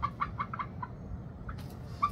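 Chickens cluck in a quick run of short, repeated notes, then pause before a few more scattered clucks, fairly close against low background rumble.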